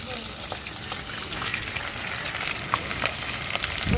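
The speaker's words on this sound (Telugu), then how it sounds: "ఫ్రై చేయడం అయిపోయింది" Food frying in hot oil gives a continuous, dense crackling sizzle with scattered pops, close and steady throughout.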